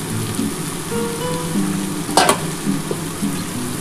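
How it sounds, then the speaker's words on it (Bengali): Poppy seed paste thinned with water is poured into a pan of frying cabbage, potato and tomato, setting off a loud, steady sizzle and bubbling with a brief splashy burst partway through, with no talking. "এই পোস্ত জলটা আমি দিয়ে দিচ্ছি"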